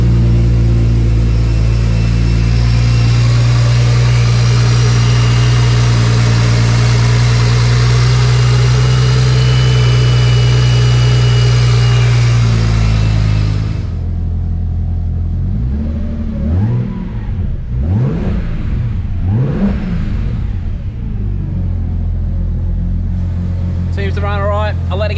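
A BMW E90 with a twin-turbo-swapped-to-single-turbo N54 engine, port injection and a freshly installed high-pressure fuel pump runs loud and steady, then drops to a quieter idle with irregular swells and voices over it.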